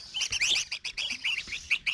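Red-whiskered bulbuls kept as cage birds give a quick run of bright, close chirps and tweets in short bursts, fairly soft, with no voices.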